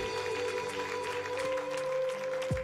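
A church congregation applauds, a dense patter of clapping hands over a sustained organ-like tone, moderately loud and filling the room.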